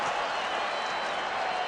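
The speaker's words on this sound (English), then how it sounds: "They're still cheering the airplane." At a baseball game, a distant stadium crowd sends up a continuous broad roar of cheers and applause as a paper airplane floats toward right field.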